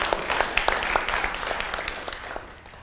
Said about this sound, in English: Please give a round of applause to thank everyone for coming.